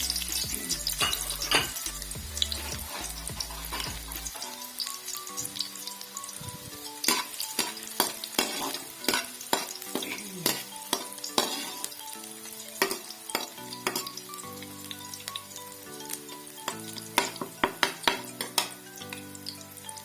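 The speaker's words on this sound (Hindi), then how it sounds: "लहसुन मैं इसमें जो है वो सबसे पहले डाल दूँगी।" Chopped garlic fries in hot oil in a pan, a busy close sizzle under repeated clanks and scrapes of a utensil stirring against the metal, with no voices.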